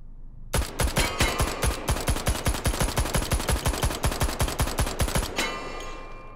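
A UMP45 submachine gun fires in the VR shooter Hot Dogs, Horseshoes & Hand Grenades: a single sustained burst of roughly two dozen rapid, evenly spaced shots, loud and close, then a brief mechanical clack as firing stops.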